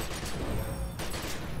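Three-round burst weapon fire in the game The Secret World, with dense, booming shots over continuous loud combat noise and no speech.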